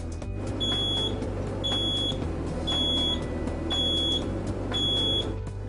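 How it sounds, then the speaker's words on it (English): A short high electronic beep repeats steadily about once a second, five times, over a constant low mechanical hum. "One activates a low audible beep when you begin to run low on water."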